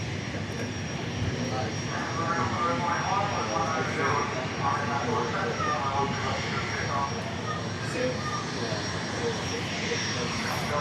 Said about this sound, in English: our next departure headed to Teterboro